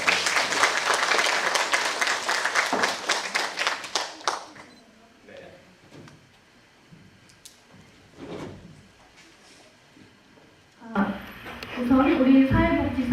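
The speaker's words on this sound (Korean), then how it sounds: "다시 한번 뜨거운 박수 보내주시기 바랍니다" Audience at a social welfare policy forum for mayoral candidates claps loudly for about four seconds, then the room quiets to scattered rustles and knocks before speech resumes.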